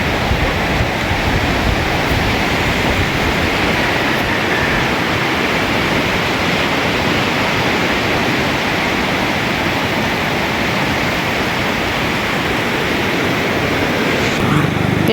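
Sea waves wash steadily onto a beach in a broad, constant roar, loud and close, with wind buffeting the microphone throughout.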